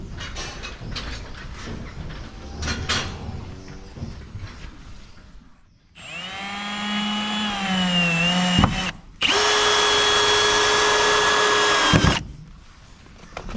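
A power drill drives screws into cattle yard boards, with scattered knocks and handling noise first, then two sustained whining runs of the motor that climb in pitch and cut off sharply, close and loud.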